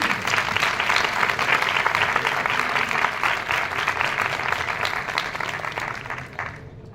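A crowd at an evening ceremony for a Fuenlabrada ex-alcoholics association applauds steadily and loudly without pause, the clapping thinning out only in the final half-second.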